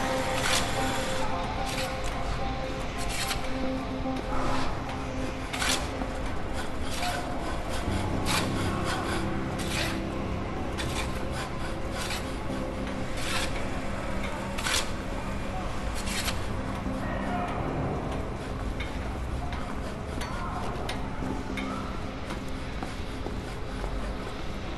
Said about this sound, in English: I don't think I've ever used a lathe before. So satisfying.